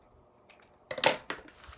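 Scissors snipping paper for craft tassels, a few quick crisp cuts close by after a near-silent start, the loudest snip in the middle and softer ones trailing off.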